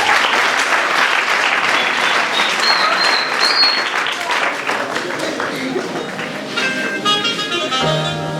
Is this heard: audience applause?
yes